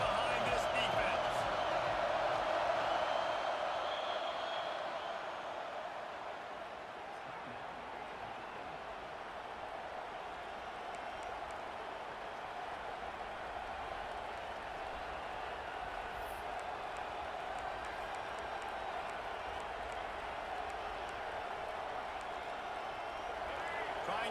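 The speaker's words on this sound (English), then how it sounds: "Big 3rd down as the crowd gets behind this defense." Crowd noise from an EA college football video game, a broad roar of cheering that swells at the start, eases, then holds steady, running under near-constant commentary.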